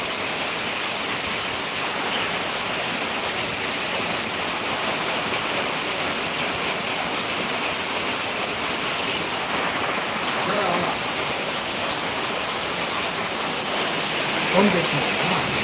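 Heavy rain pours in Krishnagiri as a steady, dense hiss that holds at an even loudness, with only a brief swell near the end.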